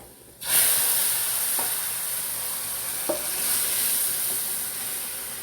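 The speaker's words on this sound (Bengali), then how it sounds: "এখন আমি এইটা ডালটা ঢেলে দিব এখানে।" Lentils hit hot oil with browned onion and garlic for a chili dal with sweet potato leaves, bursting into a loud, sudden close sizzle that holds as a steady hiss with a few faint stirring taps.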